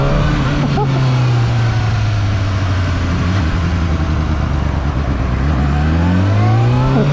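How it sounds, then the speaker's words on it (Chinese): A KOVE 450RR motorcycle rides at night, its engine note rising and falling in a strong steady drone with a thin whining gear tone above, loud and close throughout. "听一下这个齿轮这个滋滋。"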